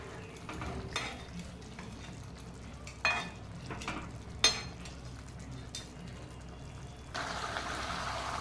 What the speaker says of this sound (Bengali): এভাবে আস্তে করে নেড়ে দেবে